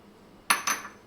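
A spoon clinks twice, sharp and close, against a pan as paneer is added to palak gravy and stirred, with a short gap between the two metallic knocks.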